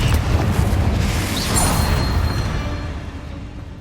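Confringo fire-blast spell in the Hogwarts Legacy video game explodes with a single loud boom that flares early and rolls out into a fading rumble.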